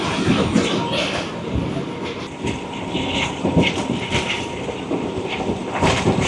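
Rawal Express passenger train running along the rails at about 82 km/h, a steady loud rumble with rhythmic wheel clatter and brief higher squeals throughout.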